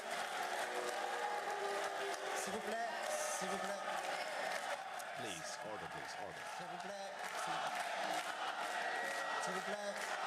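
Debate audience at a French-language Conservative leadership debate cheering and whooping loudly and continuously, a dense crowd roar with shouts layered throughout.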